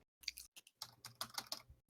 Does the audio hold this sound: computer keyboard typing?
yes